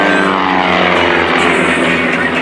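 Propeller aerobatic airplanes rolling upright at an airshow at Hampton Roads, a loud, steady, close engine drone and propeller roar that fills the whole moment with no voices.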